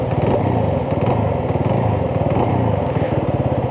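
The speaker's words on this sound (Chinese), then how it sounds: "它的这个发动机跟排气的组合声浪会比那个250 SR 还要大" A CFMoto 250CLC motorcycle idling, its engine and exhaust giving a loud, steady, rapid low-pitched chug heard up close with no talk.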